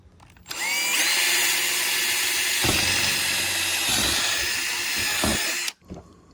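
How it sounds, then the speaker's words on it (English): A power drill whirs steadily at high speed for about five seconds, drilling a hole for trailer pins on an inflatable boat, loud and close, with brief dips in pitch as it bites, then stops abruptly. "I'm just going to drill a hole right through here."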